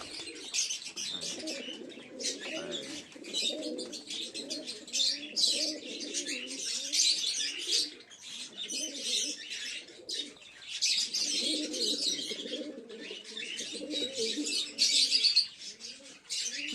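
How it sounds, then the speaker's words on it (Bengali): A big-sized male Kaldoma pigeon coos in low repeated rolling phrases close by, mixed with bright chirping from other birds and brief wing flutters, with no talk over it. "এই যে বিগ সাইজের একটা পায়রা আছে"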